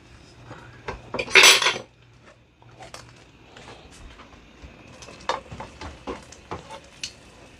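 Metal utensils scrape and clink against a pan while Bolognese ragù sauce is scooped onto pasta, with one loud clatter early, then a run of softer taps and scrapes close by, with no speech.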